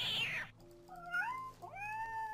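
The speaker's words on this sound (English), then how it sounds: "Cat." A cat in the Minecraft video game gives two clear, drawn-out meows in succession, close and fairly quiet, following a brief burst of hissing noise at the start.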